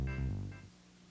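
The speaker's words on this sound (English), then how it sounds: "This is a mixed chord signal." Casio Tone keyboard playing a mixed chord built from four pitches, a short bright electronic tone with two quick attacks, decaying within about a second.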